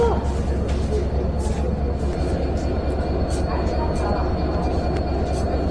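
Jahanabad Express passenger train standing at Kashiani Junction, Gopalganj, with a steady low rumble of the locomotive and carriages filling the scene, crowd noise and voices mixed faintly underneath.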